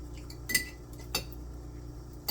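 A spoon clinks twice against a slightly rusty metal baking pan while tomato sauce is scooped in for ramen lasagna, two short close metallic taps over a quiet room hum.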